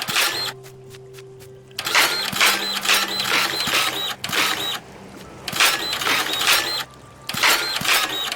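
A dirt printer in the Dinkum video game runs in loud mechanical bursts of a few seconds each, whirring and rattling with brief quiet gaps between them.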